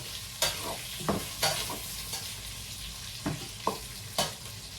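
Pork and vegetables sizzle and crackle in a pan with a steady hiss, broken by several sharp scraping knocks of a utensil stirring.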